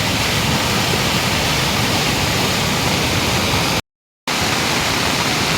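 A swollen monsoon stream in Jajarkot, Nepal, roars after heavy rain, with a dense, loud, unbroken rush of water heard up close and a brief dropout near the end.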